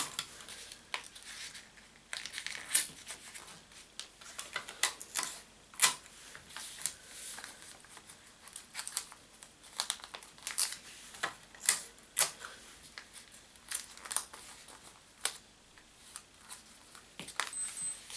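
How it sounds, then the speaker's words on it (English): Tape pulled and pressed down onto a cardboard frame, with sharp crinkling, tearing and tapping sounds coming in quick irregular bursts, close up, with no voices. "just tape it down"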